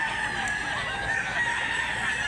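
A rooster, a costly fighting cock raised in Cebu, crows a sustained call close by, with a harmonic tone that holds steady across the short stretch.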